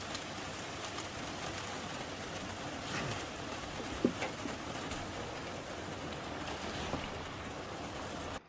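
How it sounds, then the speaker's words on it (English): Rain falls outside at a campsite in a provincial park, a faint steady hiss heard from indoors with a single small tap midway and no talking. "it's raining out there"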